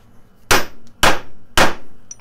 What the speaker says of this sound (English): So I'm going to give it three good wallops.